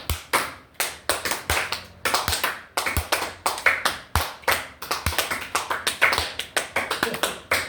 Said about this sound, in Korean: 이 박수 한번 쳐보세요.